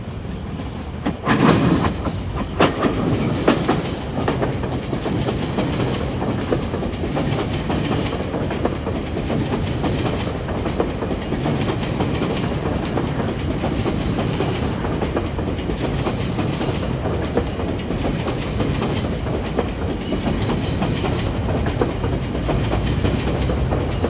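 The Kitchener commuter train rolls past the Bathurst Street Bridge in Toronto, a steady loud rumble with clickety-clack of wheels over rail joints and faint squealing, continuous for the whole stretch.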